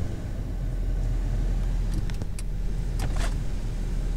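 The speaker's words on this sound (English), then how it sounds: "Power windows roll up and down" Power window motor on a 2001 Dodge Stratus sedan whirring as the glass rolls up and down, a few short strained runs heard over steady low engine or road rumble, fairly faint, with no talking.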